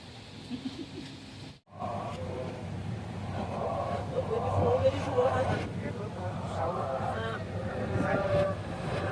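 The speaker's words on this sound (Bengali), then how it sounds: "কক্সবাজার অভিমুখী আন্তনগর পর্যটক এক্সপ্রেস 1 নম্বর প্ল্যাটফর্মের 1 নম্বর লাইনে প্রবেশ করেছে" The Dhaka–Cox's Bazar intercity Paryatak Express rolls into platform 1 at a station, a low rumbling rail noise with clanks and squeals building under a crowd's murmur and nearby talking voices throughout.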